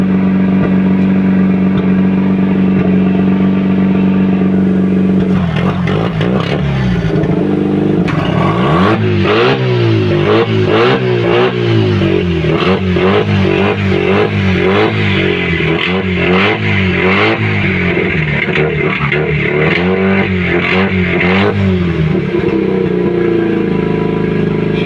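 A tuned car engine idling, then revved repeatedly at low RPM with wavering, pulsing rises and falls, close and loud, ending in a steadier run; no speech.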